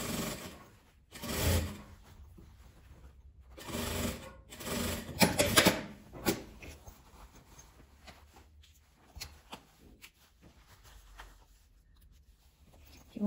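A sewing machine with a standard presser foot stitches jeans fabric for a patchwork and denim pouch, running in several short mechanical bursts separated by pauses, close and moderately loud.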